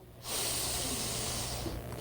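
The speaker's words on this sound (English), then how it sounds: "Deep breath through the nostrils." A long, steady nasal inhale, a soft airy hiss that rises quickly and holds for nearly two seconds before tapering off.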